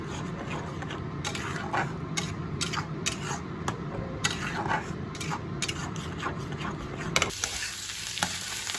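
Spiced mashed cauliflower stalks being stir-fried in oil in a wok, steady crackling sizzle with repeated scraping stirs of a spatula, close up and continuous, with no talk.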